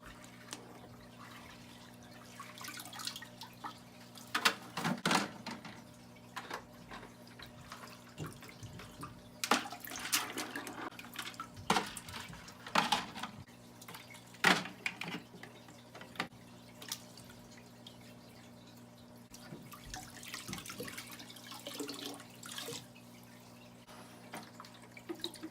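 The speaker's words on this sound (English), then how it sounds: "Just rinse everything off. Make sure everything gets kind of clean." Canister filter media from a SUNSUN 304B being rinsed in aquarium tank water, giving faint scattered splashes and drips over a steady low hum, with quiet irregular bursts of water movement and no talking.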